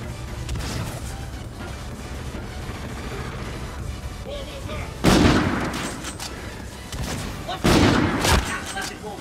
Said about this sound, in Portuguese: O cara deu um headshot brutal em mim ali.